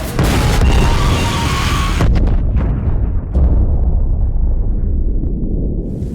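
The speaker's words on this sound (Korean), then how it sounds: "2차 폭발이 일어나고 말죠." A secondary explosion aboard a ship, a loud roaring blast that sustains heavy rumble for two seconds, then breaks into sharp cracks and a lingering low rumble that slowly fades.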